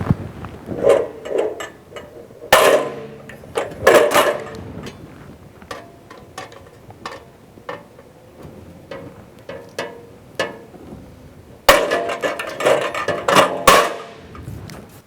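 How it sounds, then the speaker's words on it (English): Hole punch pushing holes through sheet metal for pop rivets on a toolbox build: a series of sharp, close clicks and clunks in irregular bunches, with quieter handling noise between them. "Using a hole punch, we will create the holes that will take the pop rivets."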